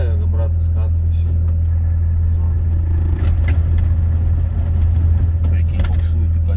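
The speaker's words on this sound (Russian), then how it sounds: "Прикинь, буксует и катится назад." A heavy truck engine rumbles steadily on a mountain pass, wheels slipping as it rolls back uphill, with a low drone throughout and some scraping and straining noises, while people talk over it.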